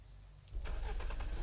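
A car engine in the video game Unturned kicks into life after a quiet moment and then runs with a steady, close, low rumble.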